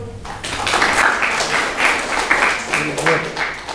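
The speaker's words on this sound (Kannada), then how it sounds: "ಸೊ ಎಲ್ಲ ಒಂದ್ಸತಿ ಚಪ್ಪಾಳೆ ತಟ್ಕೊಳ್ಳಿ." A classroom of students claps together in a burst of applause, a dense stretch of overlapping hand claps at moderate volume, with voices mixed in beneath.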